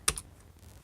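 A single sharp press of the Enter key on a computer keyboard, a close, crisp click with a faint second tap just after, then quiet.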